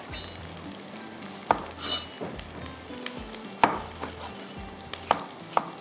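Tomatoes fry with beef qeema in a pan, giving a steady soft sizzle broken by several sharp clinks and scrapes of a utensil against the pot.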